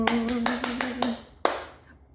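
A handful of people clap at a moderate pace, about six claps in a row, then one final sharper clap, with a steady hum under them.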